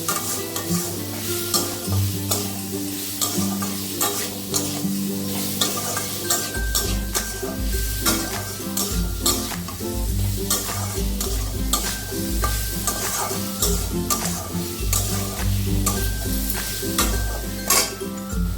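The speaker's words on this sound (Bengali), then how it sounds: "সোয়াবিনটা একটু ভাজা করে নেবেন।" Soybean chunks frying in a pan for a bitter gourd-style shukto, loud close sizzling with repeated scraping and clinking strokes of a spatula against the pan throughout.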